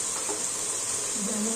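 Chicken sautéing with biryani spices and mutton masala in a pan gives a steady, soft sizzling hiss, close and continuous, with faint hints of a voice in the background.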